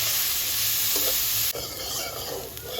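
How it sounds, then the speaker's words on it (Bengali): Chopped bottle gourd peel, softened with salt, frying in a pan with a loud continuous sizzle and stirring scrapes heard up close, without any talking. "লাউয়ের খোসাটা দেখেই সিক্সটি পার্সেন্ট ভাজা হয়ে গিয়েছে"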